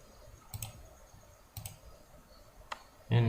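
Mouse right-click during spreadsheet work at a computer: two soft paired clicks early, another pair later and a single sharp click near the end, followed by a louder rustling burst, all fairly close with no talk.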